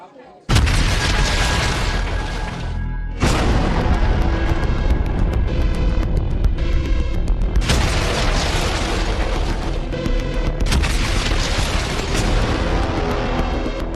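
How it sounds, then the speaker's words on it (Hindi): Heavy booms and blasts from shelling in Mykolaiv, Ukraine, loud and dense, with sharp onsets near 0.5, 3 and 7.5 seconds rolling into sustained rumbling debris-like noise throughout. "बम बारूद और धमाके"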